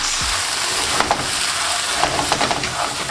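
Udon noodles with fresh scallions being stir-fried in a pan for a sirloin steak dish, giving a steady close sizzle with light scraping and tossing clicks from stirring throughout.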